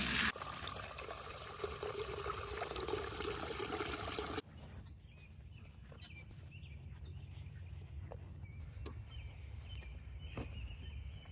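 Water trickles and pours steadily for backyard chickens, a louder splashing burst at first, then a quieter dribble with faint birds chirping in the background.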